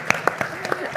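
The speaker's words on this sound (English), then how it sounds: "clap it up." A handful of sharp claps from the audience at a panel talk on independent filmmaking, spaced irregularly over a moment, close and moderately loud.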